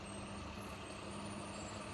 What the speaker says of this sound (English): this truck is about to come in here